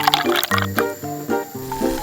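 Water is poured in a small kitchen during seafood cooking, a close, bubbly glugging fill lasting about two seconds with uneven gurgles.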